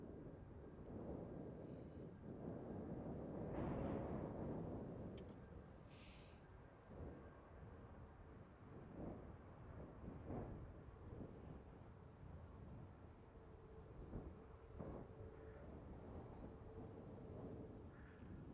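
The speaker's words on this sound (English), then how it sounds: "Still quite gusty at the moment." Gusty wind blows across Manchester Airport, buffeting the microphone in low rumbling surges that swell and ease over many seconds, with faint distant tones above.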